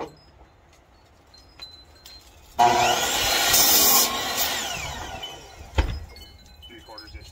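A saw cuts about an inch off the end of a piece of pitchy wood in one rough, loud burst lasting a few seconds, followed by a thump and quieter handling noises.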